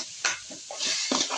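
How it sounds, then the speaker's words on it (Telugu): Tomatoes drop into a pan of sizzling fried onions and green chillies, giving a close, steady hiss broken by a few short stirring scrapes and soft thuds. "ఇక కొద్దిగా మంచిగా కలిపి ఇప్పుడు టమాటా వేస్తున్నా"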